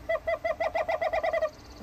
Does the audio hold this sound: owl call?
yes